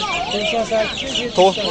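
Black chickens and chicks at a poultry market in Andijan cluck and squawk up close in busy overlapping bursts, with a louder cackle near the end and market voices mixed underneath.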